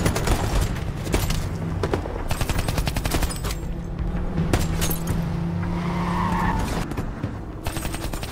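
A film shootout of rapid gunfire bursts, sharp repeated shots crackling over several seconds with vehicle and tire noise mixed in, loud and without voices.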